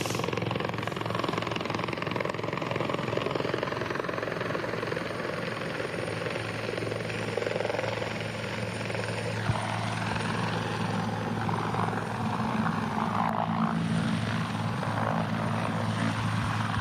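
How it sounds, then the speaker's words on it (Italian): A Carabinieri helicopter comes in to land, its rotor and engine roar loud, steady and close throughout with a continuous churning thrum. "E ecco, l'elicottero adesso è in fase proprio di atterraggio."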